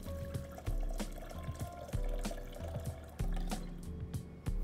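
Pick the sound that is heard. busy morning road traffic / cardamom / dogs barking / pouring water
pouring water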